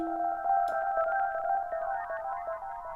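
A sustained synth tone with pitch-shifted ping pong echo repeats that wobble and shift in pitch, busy and slightly chaotic, no voices.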